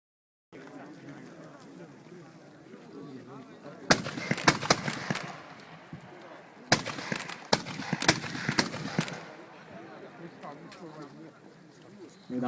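Hwacha, a historic Korean multiple rocket launcher, test-fired in an outdoor commemorative demonstration: two rapid crackling bursts of sharp reports, each lasting about two seconds, ring out over a background of crowd chatter.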